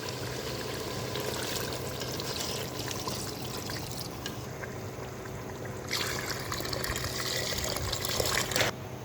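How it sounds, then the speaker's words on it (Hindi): Water pours steadily into a pot of fried beef, a soft continuous splashing and trickling that swells slightly toward the end, quiet and close with no talking. "अब हम लगा देंगे इसको पानी।"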